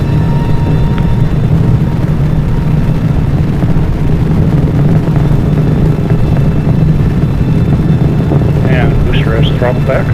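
A rocket booster engine fires in Kerbal Space Program, a loud, unbroken roaring rumble that stays steady throughout, with faint chirps near the end.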